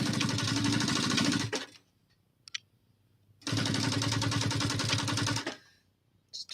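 A sewing machine stitches glitter vinyl for a backpack in two loud close bursts of rapid whirring, separated by a quiet pause.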